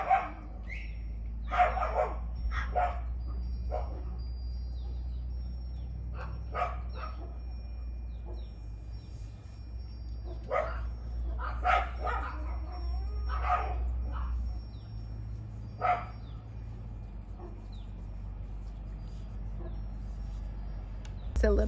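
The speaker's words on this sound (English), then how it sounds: "A little bit of a dog happening going on, so I had to pause." A dog barks and whimpers indoors in scattered bursts, some sharp yips and softer whines, fairly faint against a low background hum, with no talking heard.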